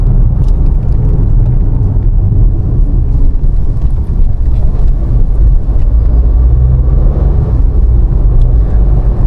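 A car driving along a road toward Joypur forest, a steady, loud low rumble of engine and road noise with wind buffeting, continuous and close throughout with no voices.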